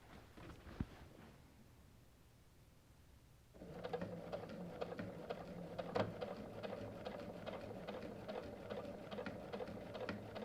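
A sewing machine stitches in the ditch along a quilt, running as a steady mechanical hum with fine rhythmic needle clatter that starts after a few seconds of quiet and continues evenly to the end, close and alone.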